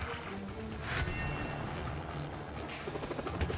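Attack helicopter in a video game shoot-'em-up, a low rotor drone and engine rumble holding steady and fairly faint, with brief game effects over it.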